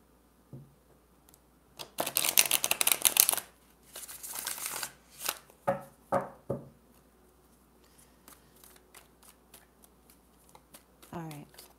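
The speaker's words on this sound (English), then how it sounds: "I just need to reshuffle these just a moment." Tarot cards being reshuffled close by in bursts of riffling and rustling, with a few softer taps and slides of the deck between them, all without talk.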